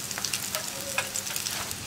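Soya chunks frying in hot oil, a dense, close, continuous sizzle with small crackling pops throughout.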